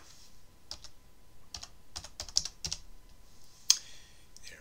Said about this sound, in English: let's type in a search term for a surname